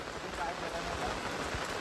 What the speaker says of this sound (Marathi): आता पाऊस परत जोरात आला आहे